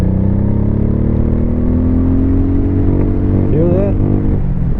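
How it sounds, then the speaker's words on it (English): A 2001 Honda Shadow Sabre 1100 motorcycle engine revved hard and held against its rev limiter, a loud, close, steady drone that wavers as the limiter cuts in near the end. "Now I'm going to rev her up."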